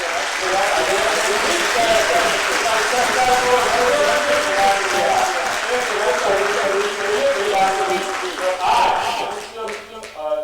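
Loud, dense applause from a theatre festival audience fills the hall without a break, a thick wash of many hands clapping that holds steady before thinning near the end, with a voice faintly beneath it.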